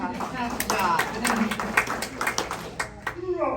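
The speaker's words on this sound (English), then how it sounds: "She deserves lots of applause." Hands clap in scattered applause from an audience at a town meeting with a sheriff and a state representative, dense and moderately loud, with talking mixed in over the clapping.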